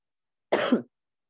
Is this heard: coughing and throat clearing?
yes